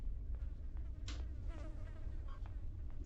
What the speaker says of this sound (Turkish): Ama sinek sesi geldi az önce bu arada.